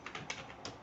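Several crisp keystrokes tapped on a computer keyboard while entering a command-line instruction in Windows, a short quiet burst of separate clicks with no voices.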